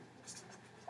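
A pen writes on paper in short, faint scratching strokes under a soft background hiss, lasting under a second.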